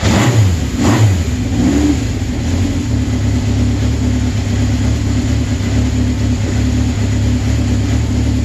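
A 1969 Honda CB750 sandcast motorcycle engine starting and revving up, settling into a loud, steady running drone close by, with no talk.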